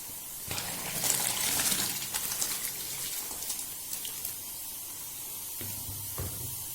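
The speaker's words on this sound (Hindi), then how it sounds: "पानी बॉयल हो गया, इसमें हम राइस ऐड कर देते हैं।" Rice poured into a pot of boiling water for beef biryani, a spraying, splashing rush that swells early and then settles into steady bubbling and hiss, with no talking.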